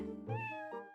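One close cat meow, a single clear, drawn-out call rising and then falling, heard on its own.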